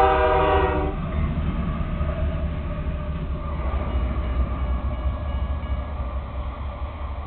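A loud train horn blasts for about a second, then Union Pacific helper locomotives rumble steadily past a railroad crossing, close by, with a deep continuous engine drone.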